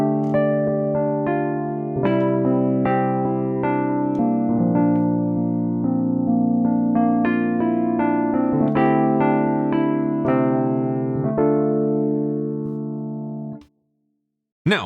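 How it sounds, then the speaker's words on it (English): A dry Wurlitzer-style electric piano with no effects plays sustained chords and melodic notes for about fourteen seconds, close and steady in level, with no talking, then stops abruptly. "I wanted to demonstrate this on kind of a Wurlitzer sound, so just an electric piano more or less"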